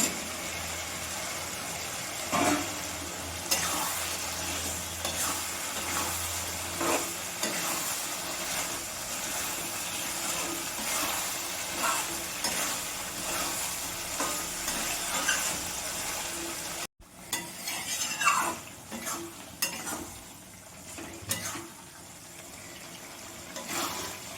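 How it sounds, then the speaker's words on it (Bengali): Spice masala and potatoes fry in oil in a pan for a Bengali home-cooked dish, a steady hissing sizzle with occasional scraping stirs, briefly interrupted partway through before resuming. "মশলা কষানো হয়ে গেছে, একটু তেল বেরিয়েছে"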